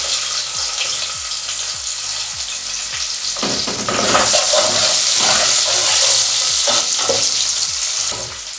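Onion goes into hot oil and fries with a loud, close, continuous sizzle that swells partway through, with stirring scrapes and rhythmic clanks of a utensil against the pot.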